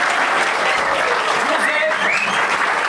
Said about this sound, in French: je vous demande d'accueillir tout de suite avec un maximum d'applaudissements pour Louis Maël